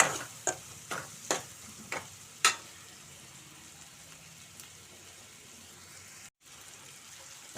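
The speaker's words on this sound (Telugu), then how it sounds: "చూడండి ఉల్లిపాయలు అయితే చక్కగా దోరగా వేయి" Onions frying in a pan for an eggplant and tomato curry give a soft, steady sizzle, with a few sharp stirring clicks early on and no talking.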